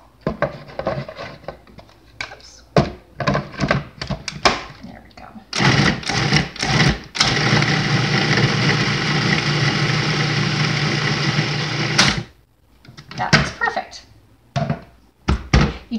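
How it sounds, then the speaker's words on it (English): Food processor blitzing torn pieces of bread into fresh breadcrumbs for tofu burgers, a steady close whirring run of about five seconds with shorter bursts around it, plus clunks and some talking before and after. "let's go ahead and break up this bread and get it in the food processor"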